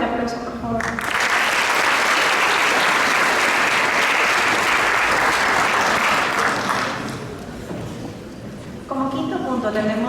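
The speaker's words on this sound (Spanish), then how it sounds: "Un fuerte aplauso, por favor." An audience at an academic talk on Ecuador's energy crisis bursts into sustained applause following a speaker introduction. The clapping swells, holds for several seconds, then fades, with speech around the edges.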